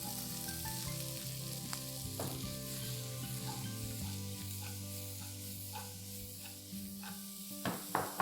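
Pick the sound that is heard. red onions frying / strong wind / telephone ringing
red onions frying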